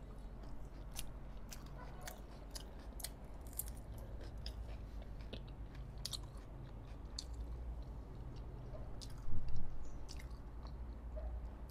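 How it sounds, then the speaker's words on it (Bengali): Someone eats mutton chaap, with soft, close chewing and occasional crisp bites at a low level over quiet room noise, and a slightly louder burst near the end. "অনেকদিন পর আসছে মাটন চাপ খাচ্ছি"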